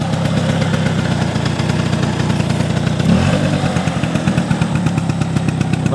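A 1990s Vespa Excel scooter's two-stroke engine idles steadily and loudly up close, with a dense, even putter that briefly blips around the midpoint before settling back to a smooth idle.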